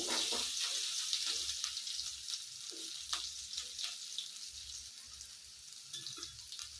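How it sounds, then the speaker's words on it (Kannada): Ginger and garlic fry in a pan for a capsicum curd gravy, a steady close hiss of sizzling oil with faint scraping stirs throughout and no talking. "ಇದು ಸ್ವಲ್ಪ ಫ್ರೈ ಆಗಿದೆ"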